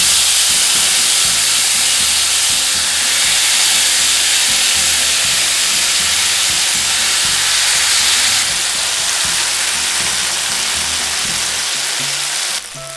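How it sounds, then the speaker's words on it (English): Sautéed beef sizzles loudly on a hot plate, a dense, continuous hiss and crackle that stays strong throughout before cutting off abruptly at the end, with no voices. "Place the sizzling hot plates on its board."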